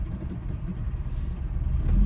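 A manual-transmission car's engine turns over and catches, a low rumble that swells louder toward the end, with no talking.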